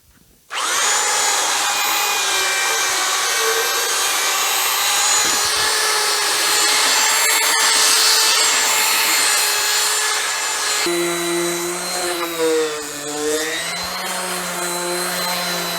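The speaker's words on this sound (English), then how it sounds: "this has been sitting out in the weather for a little over a year, so we're going to sand it" A power sander grinds steadily across a weathered log bench left outdoors for over a year, a loud continuous whine that shifts pitch partway through as pressure changes.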